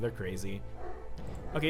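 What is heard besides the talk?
dogs barking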